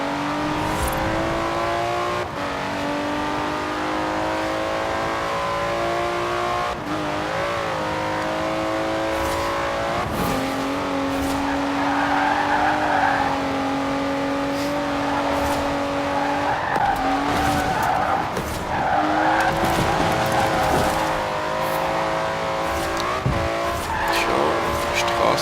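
A Maserati in a video game drives with a droning engine that shifts pitch as it accelerates, with repeated sharp tire squeals and skids, under someone talking.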